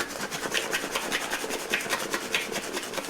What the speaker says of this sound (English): And now I'm going to shake it up really good